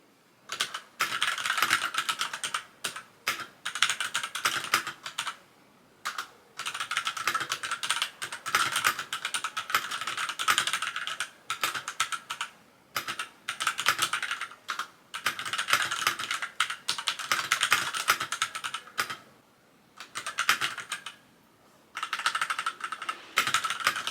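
Steady typing on a computer keyboard while writing in the evening, close rapid key clatter in bursts separated by short pauses, alone without talk.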